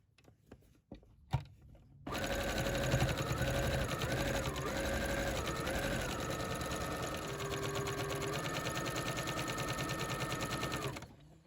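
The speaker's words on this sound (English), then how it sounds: "lower my needle and turn so that I can sew the curve of this pocket." A sewing machine sews around the curved edge of a coat pocket with a continuous, fairly close humming whir that lasts for several seconds after a few quiet handling clicks. It stops abruptly at the end.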